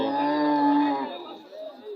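A cow lets out one loud, drawn-out moo close by at a busy rural cattle market in Roumari, with a faint murmur of people behind it as the call fades.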